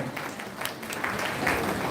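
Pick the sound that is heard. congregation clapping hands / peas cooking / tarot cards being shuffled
congregation clapping hands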